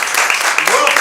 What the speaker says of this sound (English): Could we give those folks a round of applause?